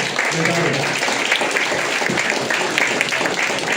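An audience at a company founders night event applauds a host, a dense, steady clapping that fills the room with some voices mixed in.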